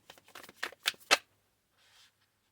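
A deck of tarot cards being shuffled in quick riffling bursts, each louder than the last, followed by a soft faint rustle after a short pause.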